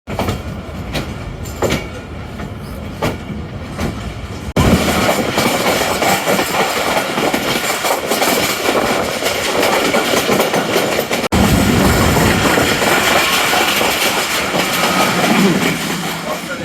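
The 8 Down Tezgam passenger train approaches Chaklala railway station, with loud, steady rumbling, rhythmic clickety-clack of wheels over rail joints and wind noise heard from close by, continuous throughout, with a voice speaking over it.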